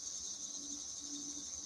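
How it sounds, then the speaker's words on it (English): A continuous high, shrill insect drone hums steadily outdoors, faint and unbroken, with no voices. "There go the cicadas."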